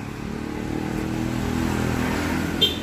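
Custom Honda Virago motorcycle with twin exhausts running steadily, a low continuous engine rumble with a small clack near the end, no talk.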